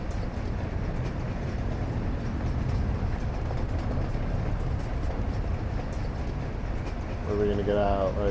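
Low, steady rumble of a train rolling along in a video game, continuous clattering noise throughout, with a voice speaking over it near the end.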